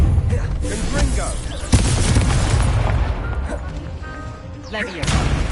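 A fiery Confringo spell explosion in the Hogwarts Legacy video game, a booming blast with rumbling aftermath and crackling debris, with talk over it.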